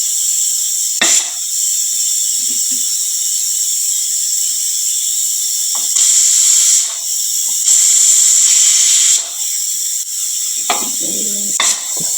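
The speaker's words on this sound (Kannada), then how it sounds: "ಯಾಕೋ ಸಿಟಿ ಹೊಡಿವಲ್ತದ" Pressure cooker cooking dal gives off a loud, steady high steam hiss that keeps going, swells louder in spells around the middle, and is broken by brief knocks and clatter.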